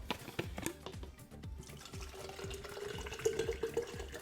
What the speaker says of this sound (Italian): borraccia lavata, andiamo a riempire d'acqua